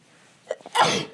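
One sharp human sneeze, close to a microphone during a football chat show, with a short intake of breath just before it and no talk over it.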